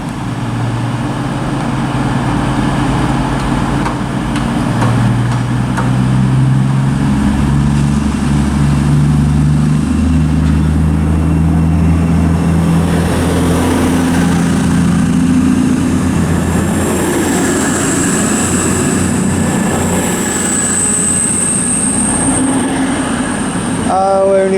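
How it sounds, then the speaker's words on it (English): A cross-country passenger unit, 220.026, pulls out of Durham station on the East Coast Main Line, its diesel engines droning and rising close by over a long, continuous passage, with faint wheel squeal and a high whine building later. "the partner now will be the 1417 cross-country service to Morpeth"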